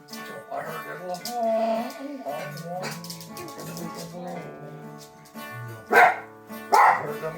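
A dog howls and yips along with a man singing a country song about a lonesome whistle and doing time in Georgia, its howls rising sharply near the end over the music.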